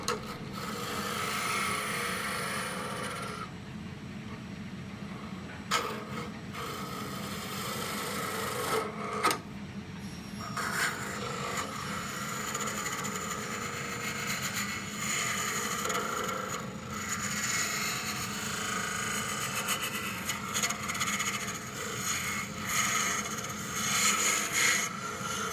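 A gouge hollows out wood on a lathe in a bamboo and wood furniture factory, making continuous rough scraping and rasping that pauses briefly now and then, steady and close.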